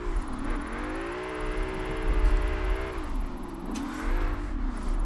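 A drift car's engine in Forza Horizon 4 holds a steady, droning rev with rising and falling pitch, loud and close, while a brief shift in tone comes midway and the revs climb again near the end.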